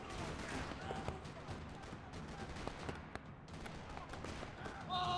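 Gunfire rattles across a parking lot in the Max Payne 3 video game, a dense spread of shots and thumps under steady game noise, with a brighter burst near the end.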